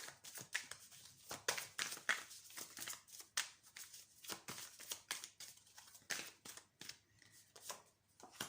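Tarot cards shuffled and drawn in a rapid run of soft papery flicks and slaps, close and fairly quiet, with no one talking.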